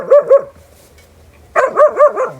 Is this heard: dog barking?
yes